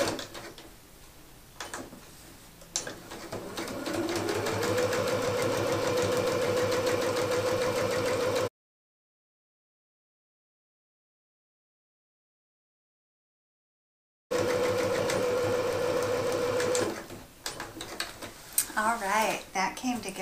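A sewing machine stitches a tablecloth hem with a steady, close mechanical hum and rapid needle clatter, running continuously for several seconds, stopping, then starting again amid handling noises.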